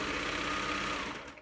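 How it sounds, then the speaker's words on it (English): A serger overlocks and trims the edge of pillowcase fabric, its motor running in a steady, fast, close-up whir for the whole moment, fading slightly at the end. "I'm putting them right here in my serger."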